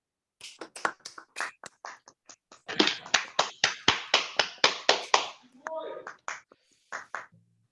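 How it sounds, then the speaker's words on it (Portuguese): An audience at a formal Brazilian ceremony saluting the national flag gives a round of applause: scattered claps build into a denser burst, then thin out as a voice starts speaking. "Para o que eu peço uma salva de palmas."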